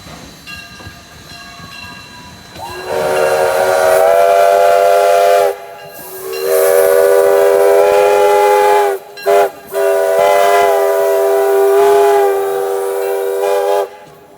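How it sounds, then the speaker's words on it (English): A steam locomotive, engine number 2 at a train museum, sounds a long harmonic whistle in three loud blasts, the first rising in after a quiet start and the last two split by a brief break, as it comes around a bend. "We got a very nice whistle coming around this bend."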